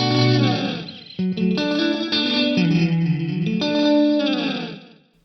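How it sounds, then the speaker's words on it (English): Guitar chords drenched in a swirling, metallic comb-filter delay effect from an Axe-Fx III quad parallel delay, thickening and shimmering the sustained notes, with a brief break before the ringing tone returns. "we could add some comb filtering using this quad parallel delay comb filter section"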